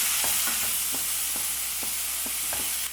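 Mushroom kurma masala is stirred in a hot pan, with a bright continuous sizzle under a quick series of soft spoon scrapes and taps close by.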